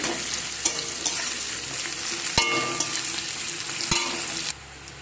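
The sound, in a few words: onions frying in a pan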